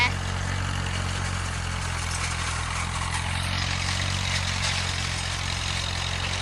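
A Ferguson TE20 tractor runs steadily while turning hay, its engine a constant mid-distance drone throughout, with no breaks in the rumble.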